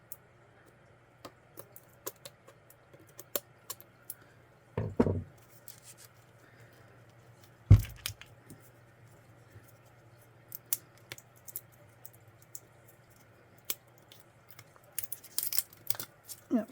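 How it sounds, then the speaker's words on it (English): Scissors snipping a plastic protective coating off a syrup pump, small close clicks and snips scattered across the stretch with a couple of louder rustling crinkles of plastic, quiet overall. "Find the scissors. I could probably just cut up here."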